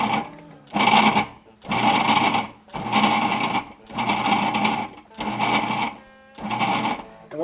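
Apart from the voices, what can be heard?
food processor pulsing butter and flour for pie crust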